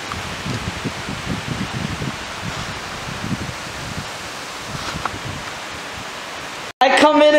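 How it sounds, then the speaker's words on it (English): Strong night wind blows outdoors near a golf course, a steady broadband rush and rustle with faint low gusts and occasional voices underneath, ending in a sudden louder burst. "The wind is kicking it up"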